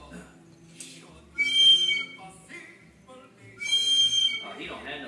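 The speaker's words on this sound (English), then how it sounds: "Don't blow the whistle in his face." A whistle shrills in two loud bursts a couple of seconds apart near a crawling baby, each blast sustained and piercing, with a football broadcast murmuring underneath.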